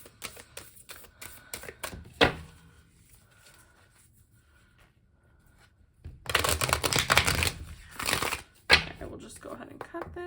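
A deck of tarot cards being shuffled and riffled in close, crisp bursts, with a pause of quieter handling between a short early flurry and a longer, louder shuffle near the end; a voice speaks faintly at times.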